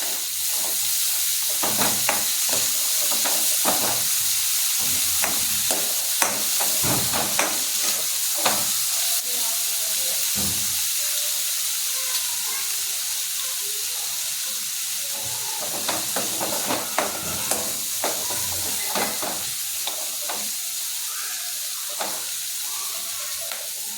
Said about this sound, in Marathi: हळद टाकल्यानंतर ही अंबाडी सुकट टाकायची, म्हणजे ही थोडी भाजून निघण्यासाठी तेलामध्ये.